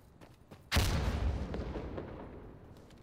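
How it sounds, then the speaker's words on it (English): A grenade explosion in Insurgency Sandstorm, one sudden loud deep boom that decays into a long rumbling tail after a few faint clicks. "Shall I throw a grenade in there?"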